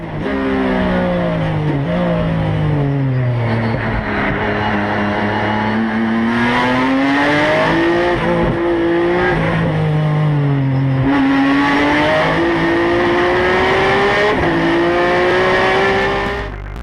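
A Nissan Skyline time attack race car revs hard and pulls away, its engine climbing through gears in loud rising sweeps with brief shifts, close and unbroken throughout.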